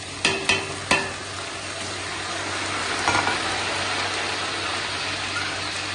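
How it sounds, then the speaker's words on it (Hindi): Onions and tomatoes fry in a pot for beef pulao, with a steady close sizzle after a few sharp knocks of stirring at the start and a faint low hum underneath. "और तकरीबन 4 टेबलस्पून लहसुन का पेस्ट हमने डाल के और टमाटर डाल के इसको खूब सारा भूनना"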